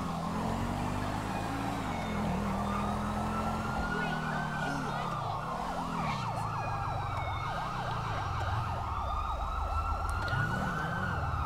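Ambulance siren in GTA V, wailing continuously with a steady rising-and-falling sweep over rumbling traffic and other sirens, loud and close throughout.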